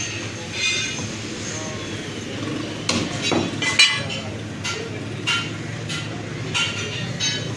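Butcher striking pieces of mutton leg with a cleaver for nihari in a meat shop, producing several sharp irregular chopping impacts over steady shop and street background noise.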